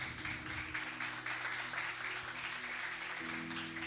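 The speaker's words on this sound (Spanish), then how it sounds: "Dale un aplauso al Señor" A church congregation applauds steadily, a soft, continuous patter of many hands with a sustained low musical tone underneath.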